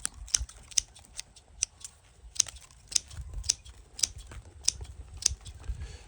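ARS 300L pruners cutting Fraser fir branches at the tip, a quick series of crisp, close snips in an irregular rhythm, with soft rustling of the needles between cuts.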